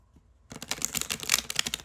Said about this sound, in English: These are kind of old cards, but it's okay. I'm gonna shuffle them.